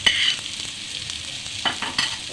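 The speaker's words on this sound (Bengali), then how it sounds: "এটাকেও আমি আবার কিছুক্ষণ একটু নেড়ে চেড়ে ভালো করে একটু নরম করে নেব পেঁয়াজটা" Chopped onion frying in a pan for creamy cheese pasta, a bright continuous sizzle broken by repeated scraping stirs, close and fairly loud with no talking.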